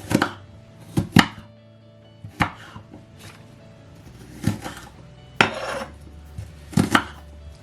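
Vegetables being chopped with a fairly small knife on a board while making a cod fish curry, with sharp, irregular knocks landing in clusters, close and fairly loud with quiet pauses between cuts and no speech.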